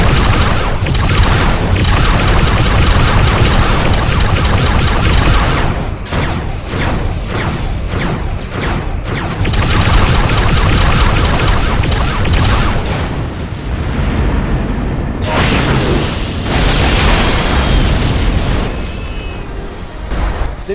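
Explosion of a simulated enemy ship in a starship combat video game: a loud, sustained stretch of rumbling blasts and crashing bursts, with several sharp hits partway through, heard alone without talk.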